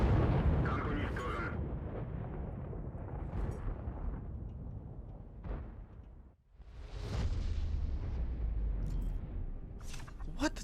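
In the World of Tanks video game, a T-10 heavy tank's ammo rack detonates in a loud booming explosion with a rumbling roar and crackling debris, a brief dip, then a second heavy burst and tail.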